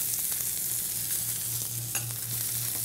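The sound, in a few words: filet mignon steaks searing in a hot pan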